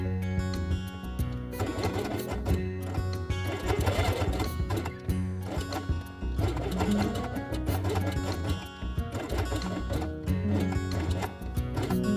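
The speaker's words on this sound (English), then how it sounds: "sew along the edge with red thread" A sewing machine stitches red thread along the edge of a felt heart, running steadily for about twelve seconds with a fast, even mechanical rattle and only brief pauses in the rhythm.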